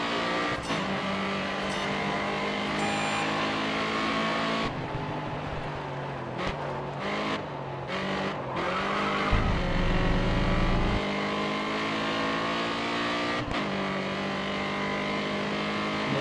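A race car engine roars in GRID Autosport, revving hard with rising and falling pitch through gear changes and a brief deep lower rumble, loud and continuous throughout.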